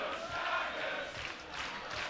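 A tag team wrestling match crowd roars and cheers in a broad, sustained swell of many voices, rising and falling slightly.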